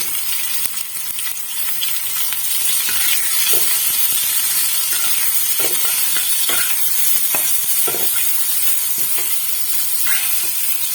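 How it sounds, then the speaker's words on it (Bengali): Onions sizzle and fry in a pan for an egg dish, a steady bright hiss with occasional stirring scrapes and clinks, close and continuous with no voices. "আমি পেঁয়াজগুলো একটু ভাজতে দেবো।"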